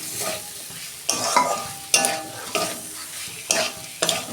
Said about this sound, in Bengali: এবার সবজিগুলো দিয়ে দিচ্ছি।